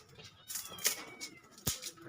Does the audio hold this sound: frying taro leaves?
no